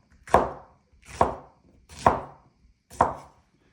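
Four evenly spaced knife chops slice through a jalapeno on a cutting board, each a crisp close thud with a short tail, alone without talk.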